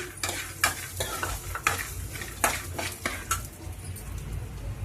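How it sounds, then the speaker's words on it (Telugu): Peanuts and urad dal fry in a pan with a soft background sizzle, marked by a run of sharp metal spoon scrapes and clinks against the pan, close and rhythmic. "మినపప్పు వేయించింది కదా. ఇప్పుడు మనం పల్లీలు కూడా వేసేసుకుందాము."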